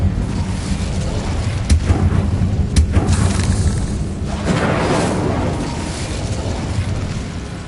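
Repeated Incendio fire spell blasts from Hogwarts Legacy, giving a few sharp cracks followed by a broad booming burst over a continuous low rumble of game ambience.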